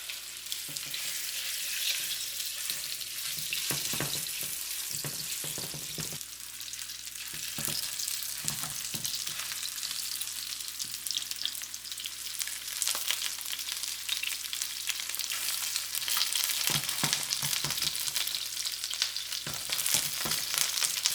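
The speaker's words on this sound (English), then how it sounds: "We put about 2 tablespoons of oil in it. Then you put the fish in it." Fish for pepper fish frying in about two tablespoons of hot oil in a pan, a steady close hiss and crackle throughout with occasional louder spatters and stirring scrapes.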